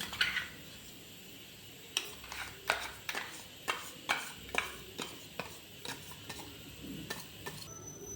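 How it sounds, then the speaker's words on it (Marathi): Ground spice paste is worked by hand into wheat, millet and gram flour in a metal vessel, giving a series of regular soft slaps and scrapes about once a second, quiet and close, without talk. "हा वाटलेला मसाला मी सर्व ह्याच्यामध्ये मिक्स करून घेणार आहे"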